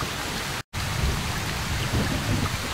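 Heavy rain pours steadily in a STALKER mod game world, a dense broadband hiss with a momentary dropout near the start, then continuous downpour with faint low rumbles beneath.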